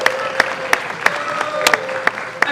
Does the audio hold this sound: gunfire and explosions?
no